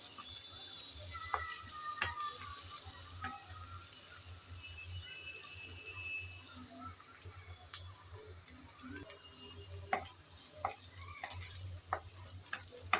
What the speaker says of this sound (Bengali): নেড়েচেড়ে ভালোভাবে ভেজে নিতে হবে, যেন আদা রসুনের কাঁচা গন্ধ চলে যায়।